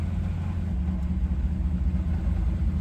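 A 1957 Chevy pickup with a replacement engine cruising down the road, a steady low engine rumble and drone filling the cab at an even, moderate level throughout.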